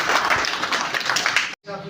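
A crowd bursts into loud applause, a dense run of clapping that cuts off abruptly near the end, followed by a brief trace of speech.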